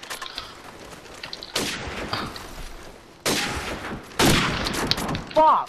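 Gunfire from Call of Duty 4 in a 1v1 match, several sudden loud bursts of shots separated by quieter stretches of game ambience.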